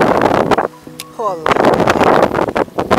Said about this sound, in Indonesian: angin sudah kuat guys.